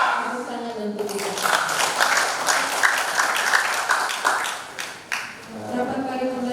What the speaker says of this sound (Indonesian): Tepuk tangan dan petikan.